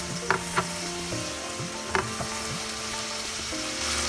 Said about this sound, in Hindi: अभी हमें मीडियम फ्लेम पे 3-4 मिनट मसाला सौटे करना है